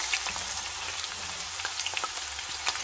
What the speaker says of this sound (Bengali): তো আমার তেল গরম হয়ে গেছে, এখন আমি পেঁয়াজ দিয়ে দিব।